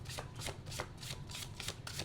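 Rapid, rhythmic riffling of an oracle card deck being shuffled repeatedly, a steady close-up flutter of cards with short bursts about every third of a second.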